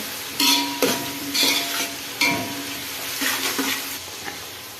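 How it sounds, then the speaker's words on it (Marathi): Onions sauté in hot oil for chicken biryani as a spatula stirs them in the pan; a steady close sizzle is broken by several loud scraping strokes, with no talk. "चांगला आपण कांदा परतून घेऊया। मी अजून थोडं तेल टाकले परत।"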